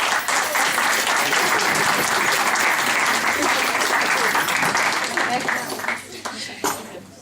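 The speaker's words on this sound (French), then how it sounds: "on peut les applaudir bien fort" At a lycée graduation ceremony, a large audience claps steadily and loudly, a dense, sustained wash of applause that fades toward the end.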